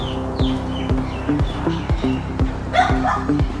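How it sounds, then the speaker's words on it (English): A dog barks repeatedly in the background during an indoor home strength workout, sharp regular barks about every half second, with some yips and a whine mixed in among the instructor's cues. "And we got the dog joining in behind us as well here."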